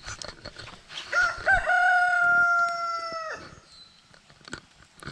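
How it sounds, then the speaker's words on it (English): A young backyard rooster, recently grown from a chick, gives one strained, wavering crow close by, with faint clucks and small movement noises before and after it. "Spot, usually you don't crow."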